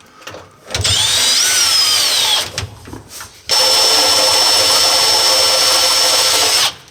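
A power drill straining to bore into stainless steel on a Defender coffee van under repair, running loud and close in two long sustained bursts with a brief pause between, the second a steady high whine.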